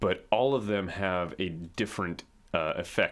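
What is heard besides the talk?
No everyday noises stand out.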